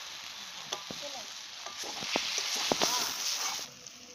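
Spice masala paste sizzles in a pan with a little added water, soft crackling and bubbling with scattered stirring scrapes, moderately close and fairly quiet.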